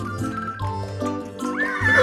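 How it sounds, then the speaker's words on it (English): A horse whinnies across the whole span, a bright rising-and-falling neigh in a cartoon-like tone, loud and steady without speech. "H for horse."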